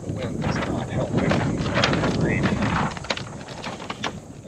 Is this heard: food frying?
no